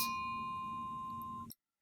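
A single bright notification bell ding with a steady ringing tone, clean and moderately quiet, sustains for about a second and a half before cutting off to silence.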